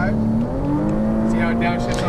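Ferrari 458 Italia engine heard from the cockpit while accelerating on a Las Vegas track, a loud steady drone with rising harmonic pitch, with a voice talking over it throughout.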